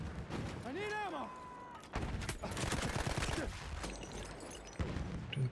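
Rapid bursts of automatic gunfire in the video game The Division during a 5v5 Incursions match, loud crackling volleys in several clusters mixed with game effects and a voice talking over parts of it.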